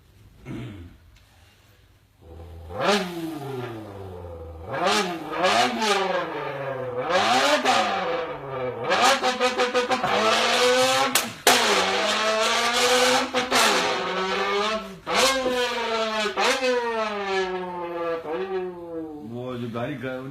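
A voice imitates drag-racing sports cars with repeated loud roaring revs, each rising in pitch in quick successive bursts like gear changes, building in intensity.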